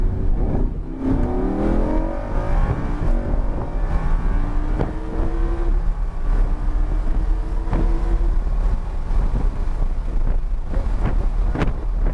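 A Lamborghini at full throttle on the Homestead Miami race track, its engine climbing steadily in pitch through repeated gear pulls, loud and continuous under heavy wind buffeting on the microphone.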